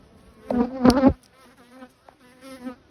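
Honeybees buzz close by at the hive, a loud droning pass swelling for about half a second before easing into a softer, steady hum.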